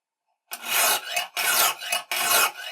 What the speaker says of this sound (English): I'm grinding in. Grinding into the blade and lifting up for the return.